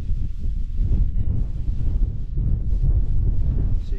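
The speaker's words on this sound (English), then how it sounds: "Wind had to pick up. There was no wind before." Strong wind buffets the microphone during wild camping in the Cheviot crags, a loud continuous low roar with gusty fluctuations. No one speaks.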